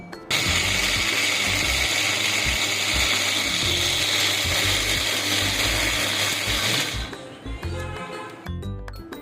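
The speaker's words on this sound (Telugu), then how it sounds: "వాటర్ వేసి మిక్సీ పడుతున్నాను నేను" A mixer grinder blends peanuts, jaggery, cumin, tamarind and water into chutney, a loud steady motor whine with rattling jar, winding down to a stop near the end.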